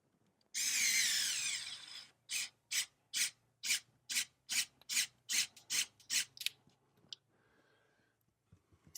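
A power drill drives a screw into plastic without a pilot hole: one longer whirring burst, then about eleven short, evenly spaced pulses of the motor, fairly quiet and close.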